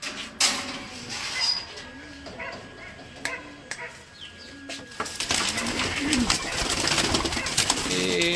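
A pigeon standing nearby gives a few low, soft coos in short repeated phrases, with outdoor background noise and occasional sharp knocks around it.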